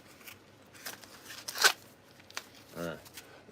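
A tape gun is reloaded with a fresh roll of packing tape. Quiet plastic snaps and a short crinkly rip lead into a brief, buzzy ratcheting unspool, all close and fairly soft.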